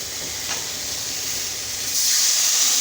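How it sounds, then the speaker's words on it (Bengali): Water poured into a hot pan of fried drumsticks (moringa pods) hisses steadily, then bursts into a louder, harsher sizzle of steam partway through. "এবার জল দিয়ে দেবো,"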